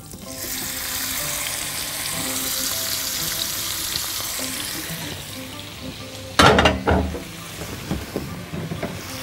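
Shrimp frying in hot oil sizzles steadily throughout, with a louder burst of spattering and crackling near the end as more goes into the pan.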